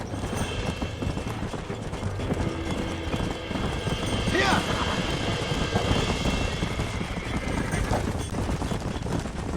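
Horse whinnies and clip-clopping hooves in the Red Dead Redemption video game, steady galloping under continuous game sound and a player talking, with a clear rising neigh near the middle.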